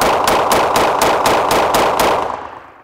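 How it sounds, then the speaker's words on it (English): A Glock 19X 9mm pistol fired in a rapid, evenly spaced string of about ten loud, sharp shots, with the echo trailing off after the last round. "it's just great to shoot with this gun."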